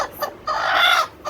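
A hen sitting on quail eggs gives a few short clucks, close and clear, with one longer drawn-out cluck in the middle and no other sounds.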